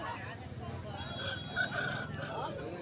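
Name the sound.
grey-feathered fighting rooster (Budide Nemali breed) at market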